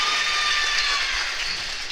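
A crowd and bench erupt in cheers and applause for a three-pointer at a senior girls' basketball game, a dense, loud wash of clapping and shouting that holds steady before easing slightly toward the end.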